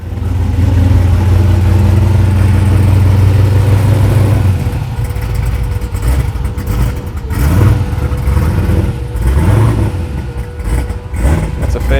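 A turbocharged V8 van engine runs loud and close, a steady low drone at first giving way to several rising revs and rough, throaty bursts.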